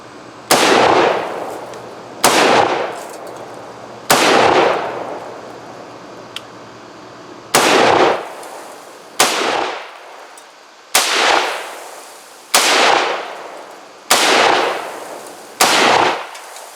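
A Beretta BM59 rifle fires on an outdoor range: nine loud, sharp reports, each with a ringing echo tail, spaced unevenly about one to three seconds apart, with no talking.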